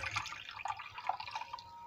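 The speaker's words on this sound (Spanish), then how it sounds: "voy a estar pasando esto por un colador" Rice and clove liquid poured through a colander, giving a steady trickling, dripping water sound close up that runs throughout without talk.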